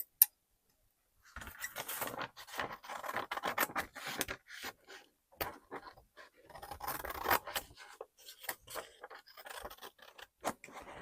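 Scissors cut out fabric pieces for a sewing project, making a quiet run of close snips and scratchy paper-like rasps with short pauses, and no one speaks.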